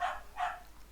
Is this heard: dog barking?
yes